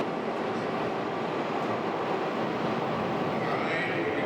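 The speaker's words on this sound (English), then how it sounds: "Train's coming in." Subway train rolling into a station platform in a film action scene, a broad continuous rumble and roar that holds steady and builds slightly with a rising metallic whine toward the end.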